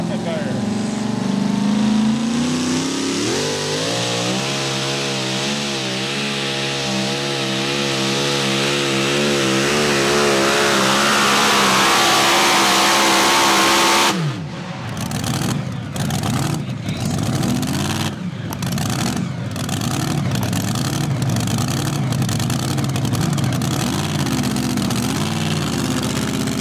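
Ford two-wheel-drive pulling truck Papa Bear from Pulaski, Tennessee, at a truck and tractor pull, engine roaring loud and near as revs climb and waver, then a sudden drop into choppy, sputtering bursts.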